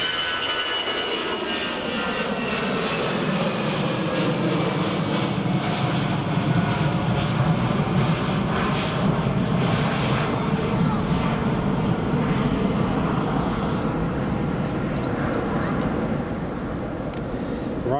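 An EasyJet airliner passes near Edinburgh Airport, its engines a loud, steady roar that holds throughout with a slowly shifting pitch, while a voice talks quietly underneath.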